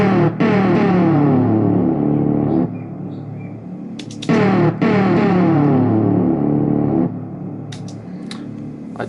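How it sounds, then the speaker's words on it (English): Synthesizer sample taken from a Waldorf MicroWaveXT wavetable synth: two long sustained chord-like tones with rich harmonics, each holding a few seconds before cutting off, separated by brief gaps and short bright glitchy bursts, loud and alone. "So I've taken a sample out of a synth and I'll show you how it sounds originally."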